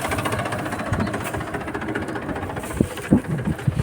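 A tractor engine runs steadily while the tractor drives straight on autopilot, a continuous low rumble with a few sharper knocks and bumps near the end, no talking.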